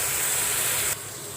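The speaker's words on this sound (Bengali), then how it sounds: "মশলাগুলো একটু কষিয়ে নেব।" Spices frying in a pan for a tomato fish curry: a loud, close hiss and sizzle that drops abruptly to a softer steady crackle.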